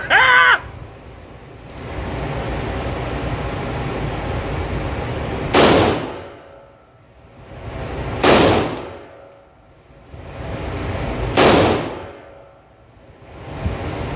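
Type 81 under-folder rifle firing three single shots a few seconds apart, each a sharp loud crack with a ringing tail over steady outdoor background noise.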